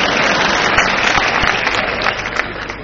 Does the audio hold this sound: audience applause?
yes